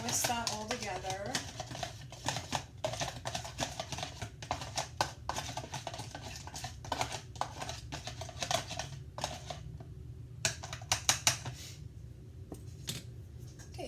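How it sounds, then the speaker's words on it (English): Cookie batter ingredients, including baking powder and salt, being whisked in a bowl, giving a long run of quick, uneven clicking and tapping strokes that carry on steadily at close range. "now let's just whisk that all together."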